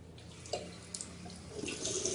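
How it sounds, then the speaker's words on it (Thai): Water from a bathroom sink tap runs and splashes as someone washes their face, a close, steady gush broken by a few brief splashes. "เดี๋ยวจะล้างหน้าให้ดูเนาะ"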